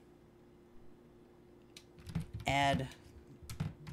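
A short burst of clattering keystrokes on a computer keyboard, close and fairly quiet, with a person speaking softly around it.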